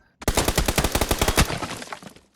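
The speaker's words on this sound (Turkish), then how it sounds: "Şu an silah deniyorum." A weapon test in PUBG: a rapid automatic burst of about a dozen sharp, loud shots rattles off in quick succession, then fades into a short echoing tail.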